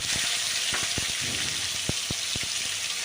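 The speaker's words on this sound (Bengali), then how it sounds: "আলু কেটে রেখেছিলাম তো ওর মধ্যে আলুটা এবার ভেজে নিচ্ছি" Cut potatoes frying in oil with black cumin sizzle in a soft, steady hiss, broken by scattered small pops and spatters over a few seconds.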